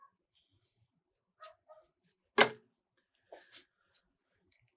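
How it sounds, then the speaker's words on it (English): A small dog yaps in the distance in a workshop setting: a few scattered yips and one sharper bark, with quiet gaps between them. "Yapping dog, car alarm."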